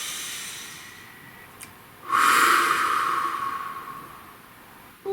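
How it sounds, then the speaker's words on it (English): One long, deep breath, loud and close, is drawn in and then slowly let out over a few seconds, and a quiet sniff comes just before it. "Nice deep breath."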